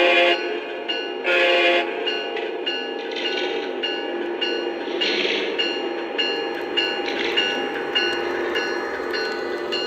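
A model train runs on a two-loop layout, rumbling and clicking steadily along the track, fairly close, with a few brief brighter horn-like accents early on.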